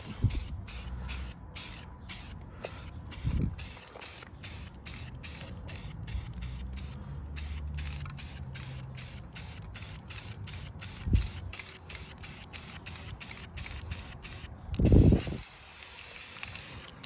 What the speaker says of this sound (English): come back through with a nice little spray